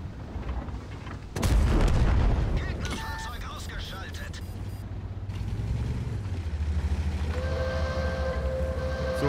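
A tank cannon in World of Tanks fires one heavy booming shot, followed by rumbling engine and tread noise and a few mechanical clanks, with someone commentating over the game sounds throughout.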